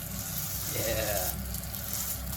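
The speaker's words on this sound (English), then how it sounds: "cooking a thin layer of egg and then frying up this mentaiko" Steady, close sizzling of mentaiko frying in a hot pan fills the clip, a constant crackling hiss with faint speech underneath.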